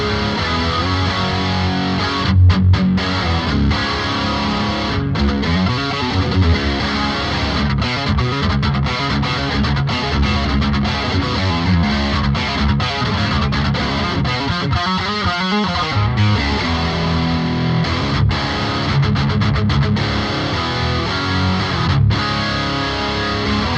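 An electric guitar with chunky distortion and a chorus effect on a Boss GT-1000 plays continuously. The tone is dense and loud, with a shimmering, wavering quality, and nobody talks over it.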